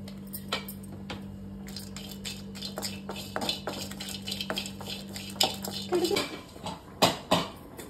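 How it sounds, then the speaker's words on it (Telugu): Dried fish dry-roasting in a pan on the stove: soft irregular scraping and clinks of utensil against pan, with light sizzling patter, faint and close, under a steady hum that stops partway. "అంతలోపల ఇంకొక సైడు చేపలని ఫ్రై చేసుకుంటాము. డ్రై రోస్ట్ చేసుకుంటాం కొంచెము."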